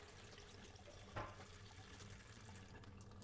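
Rice-washing water pouring out of a bowl into a kitchen sink, a steady splashing rush heard close, with a brief louder splash near the start and no talking.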